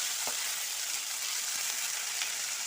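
Drumstick leaves and dried red chillies fry in a pan, a steady, loud, hissing sizzle throughout with a few faint stirring knocks.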